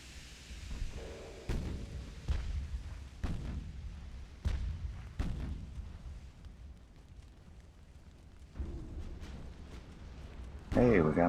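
Heavy booming explosions from a torpedo strike in the naval battle game Ultimate Admiral: Dreadnoughts, several deep blasts spaced every second or two over a rumbling battle backdrop, the loudest burst coming at the very end.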